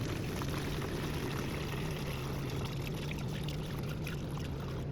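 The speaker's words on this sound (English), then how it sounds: "now I'm gonna start pouring this in here with a funnel." Coolant pours through a funnel into a 2005 Toyota Camry radiator in a steady, continuous gurgling stream, close and fairly loud, with no talking.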